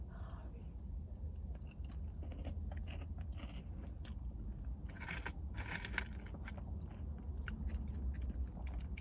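Close, quiet crunchy chewing of an Oreo cheesecake slice from The Cheesecake Factory, with steady bites and denser bursts of crunching in the middle, and no talking.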